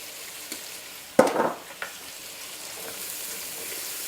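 Carrots dropped into a hot pan for carrot soup give a sharp hiss and sizzle around the one-second mark, followed by scraping stirring sounds and a soft frying crackle that continues quietly.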